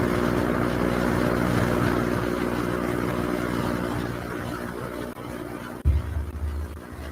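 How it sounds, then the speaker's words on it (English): Helicopters approach with a steady low rotor and engine rumble that fades gradually, then a brief louder thump and rumble near the end, heard indoors during a break in a courtroom proceeding. "Choppers are coming."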